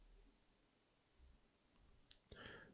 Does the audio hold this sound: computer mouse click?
yes